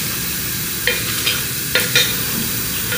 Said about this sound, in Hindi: और ये बीटर के साथ आपने मैश करना है।